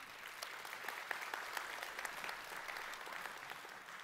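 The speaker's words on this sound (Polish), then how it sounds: "poproszę też o małe brawa dla nich" Steady applause from an audience at a Łukasiewicz research institute innovation event, a dense even patter of many hands clapping alone at moderate distance for the whole stretch.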